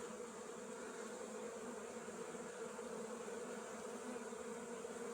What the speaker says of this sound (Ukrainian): Бжоли путаються поки що трошки. Ну, видно ж буде. Літають, літають